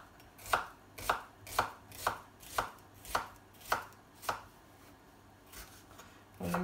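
A kitchen knife dices peeled onions into fine cubes on a cutting board. About ten crisp, close chops fall in a steady, even rhythm, followed by a short pause and a few slower cuts, with no talking.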